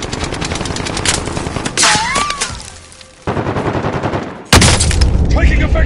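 Dense automatic gunfire in the Call of Duty Warzone battle royale, rapid bursts and shots crackling loudly, with game voice callouts over the firing and a brief lull before heavy shooting resumes.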